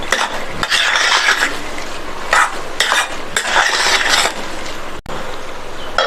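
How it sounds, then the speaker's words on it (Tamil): A spoon scrapes and stirs roasted peanuts through semolina upma in a pan, in repeated close bursts of gritty scraping with brief pauses and a sharp clink near the end. "வேர்க்கடலையை சேர்த்துட்டு நல்லா ஒரு தடவை மிக்ஸ் பண்ணி விட்டுட்டு"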